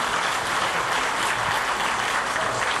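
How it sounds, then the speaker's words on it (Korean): Steady, full applause from an audience at an awards ceremony, a continuous wash of many hands clapping at even loudness throughout, with no one speaking. "여러분 다시 한번 축하의 박수 부탁드립니다"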